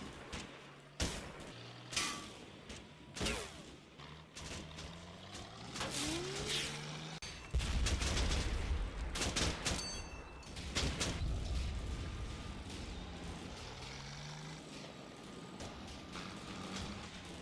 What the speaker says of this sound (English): is forced to withdraw due to American small arms fire